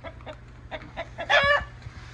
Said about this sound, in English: notice where all of our chickens going. Out of the run, back to the coop.